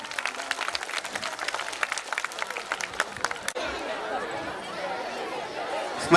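At a school annual day in Kadapa Shilparamam, rapid crisp clapping from a crowd gives way midway to a denser, washier roar of applause and chatter, with a brief louder burst at the end.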